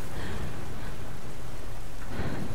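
Rain in the video game Tomb Raider falls as a loud, dense, steady hiss of downpour with low rumbling underneath, continuous across the short stretch and without any talk.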